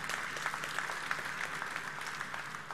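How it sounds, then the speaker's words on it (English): Faint, steady applause from a large audience at a university centenary celebration, a distant wash of clapping with no speech over it. "these four incredible people deserve a bigger round of applause."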